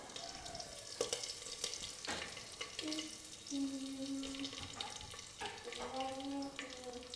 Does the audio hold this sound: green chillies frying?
yes